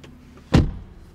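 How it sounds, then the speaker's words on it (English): A 2024 Lamborghini Revuelto V12 hybrid's door swings shut with a single solid thump, close and fairly loud, over a quiet cabin background. "let me just close the door for you"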